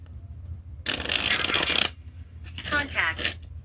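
Playing cards shuffled by hand during a live stream, two bursts of rapid riffling and rustling, close and fairly loud, separated by a short pause over a low background hum.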